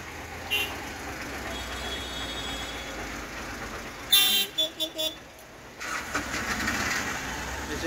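A Dhaka traffic jam with idling and revving engines and several short horn toots in a quick cluster midway, then a continuing engine drone.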